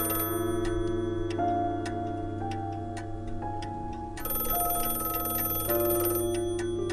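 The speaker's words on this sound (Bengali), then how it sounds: "টেলিফোনের ঘন্টা। সঙ্গে সঙ্গে শুনলুম ঘরের দেওয়াল ঘড়িটা চিৎকার করছে।" A telephone bell rings in a room at midnight while a wall clock strikes, tonal chimes sounding in a steady series of sustained notes over a constant low hum, with no voices.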